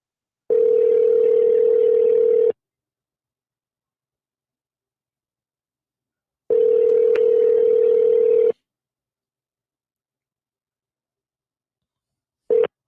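A phone call rings out on the line: two long, loud electronic ring tones about two seconds each, separated by a four-second silence, then a third ring cut off at once, heard close and clean with no talking.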